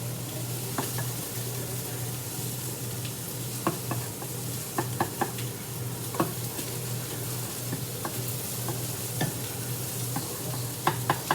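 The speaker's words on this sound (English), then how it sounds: "Sausages are good. So turn that off, let them sizzle a little bit." Sausages sizzle steadily in a hot pan, a constant crackling hiss broken by occasional scraping clicks as they are turned.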